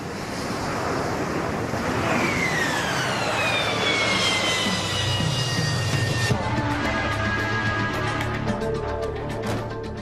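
Harrier vertical take-off jet roaring loudly and steadily, with a rising whine that sweeps upward before settling into a sustained high turbine tone, with wind buffeting the microphone throughout.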